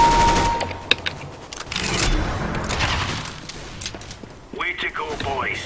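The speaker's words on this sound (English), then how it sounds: "Bullets are whizzing past my faces" Counter-Strike gunfire rattles in quick bursts and scattered shots, with loud booms and bullets whizzing by, while a player talks over the action; tonal game sounds rise near the end.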